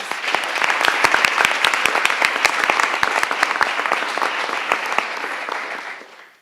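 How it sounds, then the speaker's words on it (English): A crowd applauds steadily for several seconds, dense clapping filling the room before fading out at the end. "Let's give them a round of applause, please."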